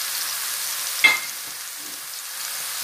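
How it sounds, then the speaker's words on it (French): Small shrimp hit hot oil in a pan with a sudden sharp sizzling burst, then settle into a softer, fading hiss of frying. "Je lance les petites crevettes."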